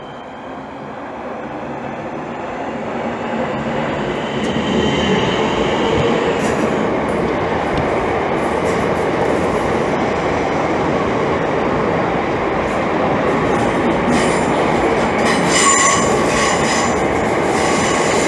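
A Class 465 electric train arrives at London Bridge station, its loud rolling rumble building and holding steady, with wheel squeal and clattering over the rails, and no voices.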